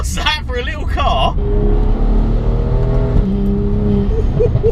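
A modified 390 bhp BMW 135i hatchback revs hard in third gear, its engine note climbing in a strong, steady drone after brief talk at the start, with pitch rising steadily through the pull.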